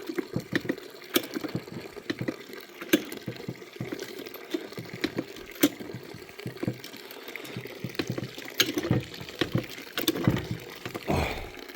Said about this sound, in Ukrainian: Ось такою струєю тече сік.